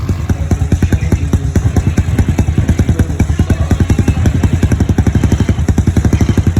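Small go-kart buggy engine runs with a loud, rapid, steady pulsing putter close to the listener, continuous throughout with no voices.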